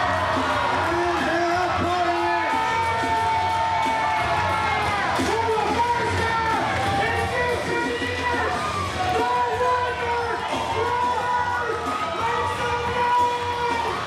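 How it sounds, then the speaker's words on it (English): A wrestling crowd at a charity show cheers and shouts loudly and continuously, with whoops and children's high-pitched yells layered over a dense roar of voices. "Listen to the crowd."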